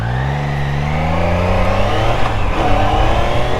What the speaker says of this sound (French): je vais accélérer à peu près à 50 km/h et tester le frein arrière